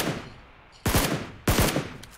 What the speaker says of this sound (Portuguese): Mano, tá atirando a gente.